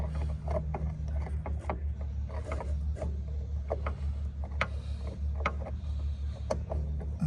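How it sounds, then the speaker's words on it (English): A hand-held brake line cutter works on a Mercedes-Benz brake line, giving repeated small metallic clicks and ratcheting ticks over a steady low hum. "so now we're gonna use this brake line cutter"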